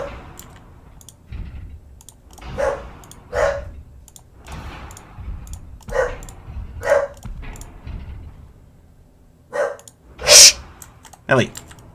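Millie the dog lets out a series of sharp, separate barks spaced across the stretch indoors, with one louder bark near the end and faint clicking between them.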